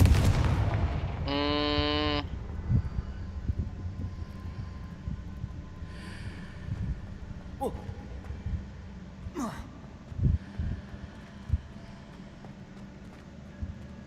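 A Confringo blasting spell in Hogwarts Legacy gameplay, heard as a few sharp booms and whooshes over a low steady game ambience, with a brief tonal chime early on and no talking.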